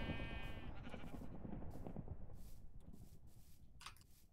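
A sheep in a video game bleats once, clear and close, at the start. Soft shuffling and rubbing noises follow and fade over the next few seconds.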